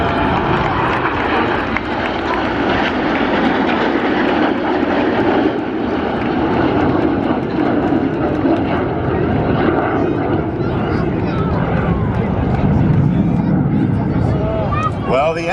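Red Arrows jet aircraft fly a display at an air show, making a loud, continuous engine roar that swells and holds throughout, with a voice speaking over it.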